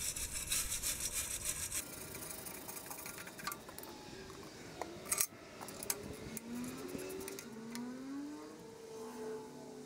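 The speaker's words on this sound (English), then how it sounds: "There's some rusty threads there, so I'll clean it with the wire brush first." Wire brush scrubbing rusty threads on the exhaust pipe of a Wheel Horse Model 401 garden tractor, a close, steady raspy scraping in rapid back-and-forth strokes with brief pauses and metallic squeaks.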